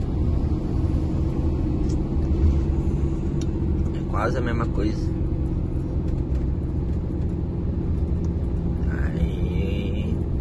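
A heavy Volkswagen Constellation truck descends a mountain road using its engine brake in a high gear, giving a steady low droning rumble throughout, with someone talking briefly over it partway through.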